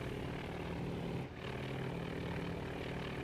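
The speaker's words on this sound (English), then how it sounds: "Alright, we're diving on the target." Dive bomber propeller engines drone steadily as the planes dive in the naval game Task Force Admiral, a constant loud hum with one brief dip partway through.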